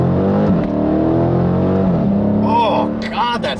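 A 2016 Dodge Challenger R/T Scat Pack engine holds a loud, steady deep drone with a brief rise in revs, while a voice talks over it near the end.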